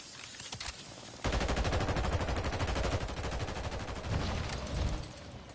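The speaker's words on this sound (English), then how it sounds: "Shooting me from the roof." Rapid automatic gunfire from a Warzone match on PS5, a dense burst of quick shots running steadily for several seconds at moderate level, with no talk over it.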